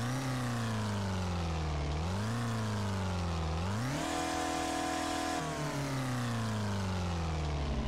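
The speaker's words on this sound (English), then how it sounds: "It sounds like a GTI would sound." A VW Polo GTI car mod in Euro Truck Simulator 2 revs hard through its engine and exhaust, pitch climbing in steps with each gear before settling into a steady, loud drone.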